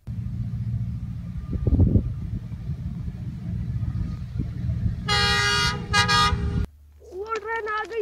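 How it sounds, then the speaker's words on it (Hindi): A train arrives with a low rumble, then its horn blares loudly in long toots, while people speak over the scene. "वो ट्रेन आ गई है"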